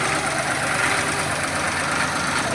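The F6A engine of a Suzuki Multicab mini van idles after repair in a steady, loud, continuous rumble with an even low throb and no change in speed.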